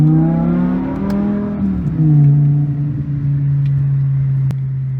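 A 2007 BMW M6 with a V10 engine accelerating in city driving, its close, loud tone sweeping up through a rev then settling into a steady droning cruise.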